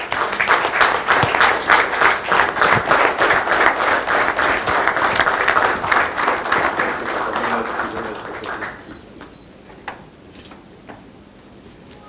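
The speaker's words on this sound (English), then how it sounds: "let's have a round of applause" An audience at a forum launch event claps in a dense burst of applause that holds steady, then tapers off into a few scattered claps.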